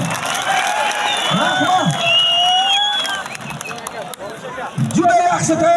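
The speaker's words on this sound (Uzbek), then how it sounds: "Qarsak chalinglar, Surxondaryoliklar." Crowd at an Uzbek wrestling bout clapping and cheering in a swelling burst, with an announcer talking loudly over the applause through a PA.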